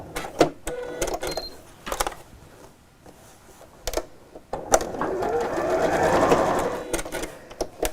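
A sewing machine quilts lines on a tote bag in short, whirring stitching runs broken by pauses and small handling clicks, close up.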